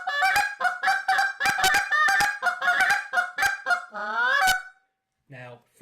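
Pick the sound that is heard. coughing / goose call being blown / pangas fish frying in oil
goose call being blown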